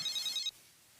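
A telephone trills with a bright electronic ring for about half a second, then cuts off into near silence.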